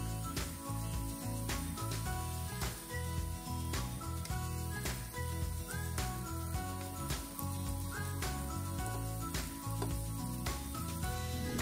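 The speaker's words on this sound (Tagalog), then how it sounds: "Gisa lang din po ito ng 3 minutes over medium heat para mas lumasa po yung ating chorizo macao sa fried rice." Chorizo macao sizzles steadily in a pan over medium heat while being sautéed for fried rice, a continuous close frying hiss running throughout with occasional clinks and light background music.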